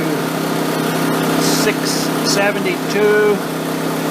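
A WEN 56225i inverter generator runs steadily under added load in paralleling mode, its engine note holding constant and rising slightly, while someone talks over it.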